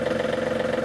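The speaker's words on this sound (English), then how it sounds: "the tractor's running at idle right now" A 2012 John Deere 3720 cab tractor with about 280 hours idles during a hydraulic flow test, giving a steady mid-pitched engine hum with a fast, even pulsing and no voices over it.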